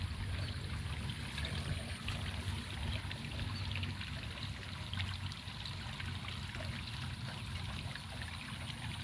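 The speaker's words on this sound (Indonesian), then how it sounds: "hamparan air mengalir dengan suara gemericik-gemericiknya ini" Flowing water in an outdoor stream gurgles and trickles in a steady, faint wash that continues unbroken throughout, with no voices.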